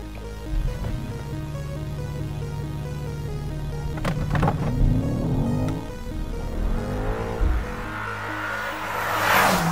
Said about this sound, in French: Il n'y a plus qu'à écraser les freins et l'accélérateur et c'est parti.